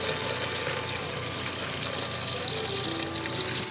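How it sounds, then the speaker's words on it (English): Vegetable broth pouring into a soup pot of mushrooms and onions, a continuous close splashing gush of liquid running steadily for a few seconds without speech. "I'm gonna add in the rest of the veggie broth"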